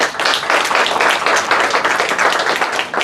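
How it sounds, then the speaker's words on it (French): A church congregation applauds together at a worship service, a dense, steady wash of many hands clapping close by for about three seconds with no pauses. "on applaudit"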